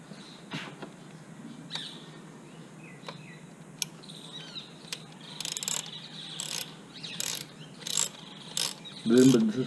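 A T30 Torx bolt is tightened by hand into a plastic turbo inlet on a Skoda Octavia RS245, giving repeated close ratchet clicks and brief metallic ticks in short bursts, with faint birdsong in the background.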